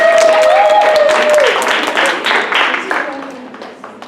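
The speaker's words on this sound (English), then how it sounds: "Let's give them a round of applause." An audience applauds the Rising Shadows Theater troupe at a 2020 LA Ubuntu Dramatic Productions show, with dense clapping that starts loud and gradually thins and fades, and a brief whistle rising over it early on.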